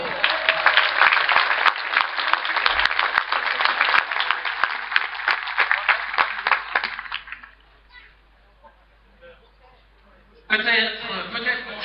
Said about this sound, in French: avec vos chaleureux applaudissements que le spectacle